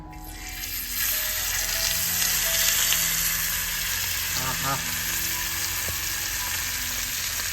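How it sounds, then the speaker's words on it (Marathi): Whole marinated sheg fish frying in hot oil on a wood stove gives a steady, loud sizzle throughout, with brief clinks and stirring bumps midway. "आता मच्छी टाकू याच्यामध्ये सगळ्यात अगोदर आपण तेलामध्ये फ्राय करणार आहोत ते म्हणजे शेग मासा"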